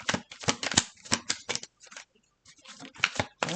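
A deck of tarot cards being shuffled by hand, with bursts of riffling and flicking close by, a short pause near the middle, then more shuffling.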